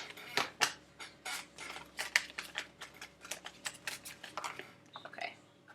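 Tarot cards are shuffled by hand close up, giving a quick run of soft, papery snaps and riffling taps in uneven bursts. The shuffling is fairly quiet, and no voices are heard.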